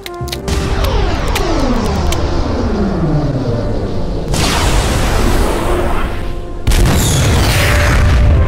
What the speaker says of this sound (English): I've never seen such amazing fireworks!